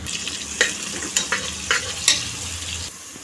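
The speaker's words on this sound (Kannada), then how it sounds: "ಚೆನ್ನಾಗಿ ಗೋಲ್ಡನ್ ಬ್ರೌನ್ ಬರೋ ತನಕ ಚೆನ್ನಾಗಿ ಫ್ರೈ ಮಾಡ್ಕೊಳ್ಳಿ ಆಮೇಲೆ ಮೆಂತ್ಯ ಸೊಪ್ಪನ್ನ ಆ್ಯಡ್ ಮಾಡ್ಕೊತಾ ಇದ್ದೀನಿ" Fenugreek leaves fry in a pan with a steady sizzle, punctuated by several sharp scraping clinks as a utensil stirs them at roughly even intervals.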